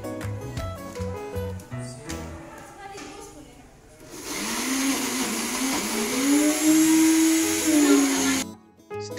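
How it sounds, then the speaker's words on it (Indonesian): A kitchen blender purees breadfruit for a traditional dessert, a loud steady whirring drone with shifting pitch that starts partway through after quieter sounds and cuts off near the end. "Blender buah sukun hingga halus."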